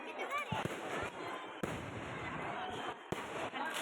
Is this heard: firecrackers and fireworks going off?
yes